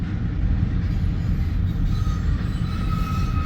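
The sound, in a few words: freight train with several locomotives passing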